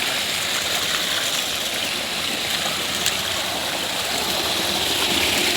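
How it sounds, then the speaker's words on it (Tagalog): A strong mountain stream rushes over mossy, slippery rocks, a loud, steady broadband roar of water continuing without pause, close by and with no voices. "Ang lakas ng tubig"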